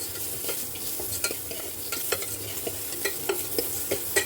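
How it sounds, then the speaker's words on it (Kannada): Drumsticks and onions fry in a pan with a continuous sizzle, punctuated by regular scraping and clinking strokes of a spoon stirring against the pan. "ಈರುಳ್ಳಿ ಎಲ್ಲ ಬಾಡಾದ್ಮೇಲೆ ನುಗ್ಗೆಕಾಯಿ ಎಲ್ಲ ಹೀಗೆ ಫ್ರೈ ಮಾಡ್ಕೋಬೇಕು"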